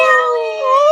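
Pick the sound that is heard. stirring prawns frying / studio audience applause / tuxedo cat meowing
tuxedo cat meowing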